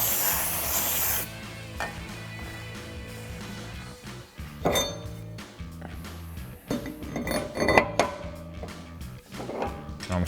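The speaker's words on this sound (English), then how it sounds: "grab some brake clean and a clean microfiber, give it a good spray, wipe it down" A long hissing spray of brake cleaner bursts out first, followed by scattered rubbing, wiping of a brake rotor with a microfiber cloth and light metallic clinks up close, with no talking.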